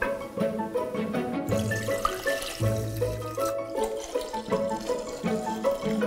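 Red wine pours in a continuous gurgling stream into clementine syrup for mulled wine, with a steady liquid rush and splashy texture throughout, close and fairly loud with no talk.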